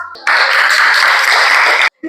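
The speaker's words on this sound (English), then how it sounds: "give her a huge round of applause" An audience applauds after a performance at a school Independence Day function, a loud, dense burst of clapping that starts abruptly and cuts off sharply near the end, followed by a brief voice.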